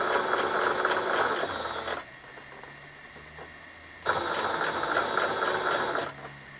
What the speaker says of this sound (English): So you're just going to start sewing, and it should start to gather on itself.